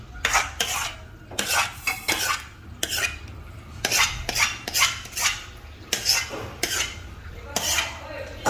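Metal utensils scrape and clink against an oiled plate as khandvi (patudi) batter is spread, a steady rhythm of close, repeated strokes with no talk.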